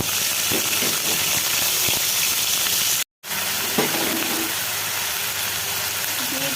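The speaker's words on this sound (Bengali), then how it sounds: "তেল গরম হয়ে গিয়েছে দিব দুটি শুকনা মরিচ অল্প একটু পাঁচ দিয়ে দিব পেঁয়াজ কাটা" Dried chilies, a pinch of five-spice and sliced onion hit hot oil for a Bengali achari eggplant dish, giving a steady, loud, close sizzle and hiss that cuts out briefly midway, then resumes just as strongly.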